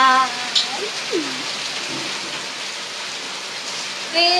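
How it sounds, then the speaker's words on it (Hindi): Heavy rain pours in a steady, dense hiss, with brief voices near the start and end and a faint bird call. "बहुत ज़ोरों की बारिश हो रही है"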